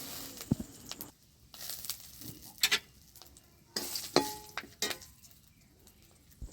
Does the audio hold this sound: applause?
no